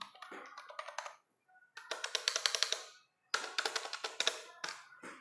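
Rapid typing on an Amazon Basics keyboard, bursts of quick clacking keystrokes close up, separated by short silent gaps, with no voices.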